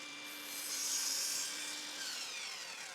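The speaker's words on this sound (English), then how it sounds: "the best tool to make these quick cuts is a miter saw" A miter saw cuts through pallet wood with a steady, close whining cut that swells slightly in the middle and then fades a little, with a faint tonal ring running underneath.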